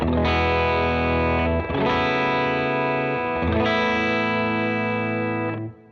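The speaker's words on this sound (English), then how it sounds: "here's a clean tone" Clean electric guitar tone played through a praise-and-worship pedalboard, sustained strummed chords with lush effects and shimmering modulation, ringing out in three broad swells before fading at the end; no voices.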